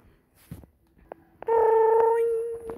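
A phone rings in a cartoon: a few soft clicks, then a loud sustained electronic ringtone that holds for over a second before fading.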